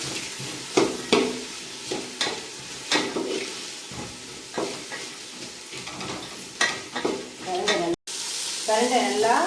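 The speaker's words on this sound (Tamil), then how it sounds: "நல்லா வறுத்து எடுத்துடணும் எண்ணெய் கொஞ்சம் விட்டுக்கணும் வறுக்கிறதுக்கு நல்லா தான் நல்லா வதக்கணும்" Ingredients fry and get stirred in a little oil in a pan for a Tamil home recipe, with steady sizzling broken by repeated scraping strokes of a spoon, close and moderately loud.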